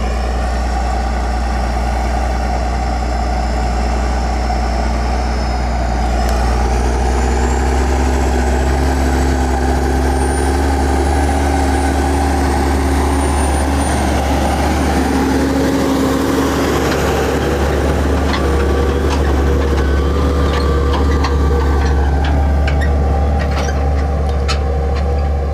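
A Valtra S374 tractor engine rumbles steadily and loudly throughout while disking never-ploughed virgin land through freshly ploughed mud and deep puddles, with a deep low drone and occasional rattling clanks toward the end, heard close up with no voices.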